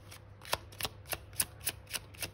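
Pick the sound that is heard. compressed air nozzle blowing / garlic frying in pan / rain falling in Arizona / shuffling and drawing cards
shuffling and drawing cards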